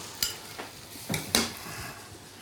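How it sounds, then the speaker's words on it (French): Pan and utensil clatter as calamari and shrimp are sautéed, a few sharp scrapes and knocks close by over a faint sizzle, with no talking. "Iniziamo a mettere i calamari, li facciamo rosolare."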